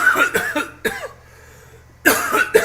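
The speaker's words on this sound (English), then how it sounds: "She gets so upset when I cough" A person coughs in a few harsh bursts close to the microphone, a quick cluster at the start, a short gap of near silence, then another run of coughs.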